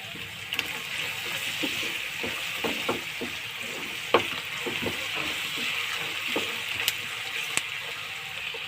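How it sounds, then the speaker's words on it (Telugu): Steady sizzling of flattened rice (atukulu) frying in a salted pan, a continuous bright hiss with scattered light clicks and scrapes from stirring, close and even throughout. "ఒక టూ మినిట్స్ వేగాలి ఫ్రెండ్స్"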